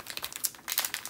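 Crinkling and crumpling of thin plastic wrap, close up, in quick irregular bursts with no talking.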